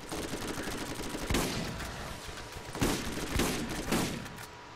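Machine gun fire in the video game Borderlands: several rapid bursts of gunfire in a dense, crackling fusillade, with a few heavier booming shots standing out over constant background game noise.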